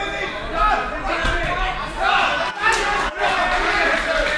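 Crowd in a boxing hall at a home-nation bout between Norwegian and German fighters, a loud continuous roar of cheering and shouting that swells and dips, with a commentator's voice talking over it.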